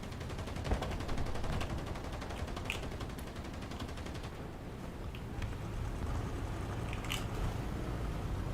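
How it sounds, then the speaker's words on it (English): Sustained anti-aircraft gunfire in the War Thunder game, a dense, continuous rattle of rapid shots mixed with explosions that holds steady at high loudness throughout, with no voices. "Why are you shooting at me?"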